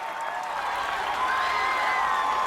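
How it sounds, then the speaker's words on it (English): Crowd at the American Ninja Warrior Venice Beach finals cheering and yelling for David Campbell, a dense, rising roar of voices that grows louder toward the end. "Crowd erupting in support of David Campbell"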